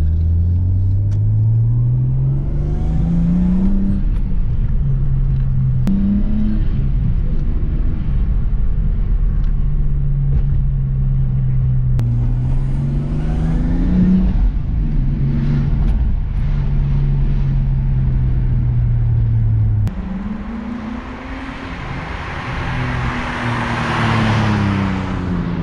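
A 1992 Nissan R32 Skyline GTST is driven hard, its engine climbing and dropping through repeated rev rises and gear changes, loud and steady from inside the car. Near the end comes a broader rush of noise.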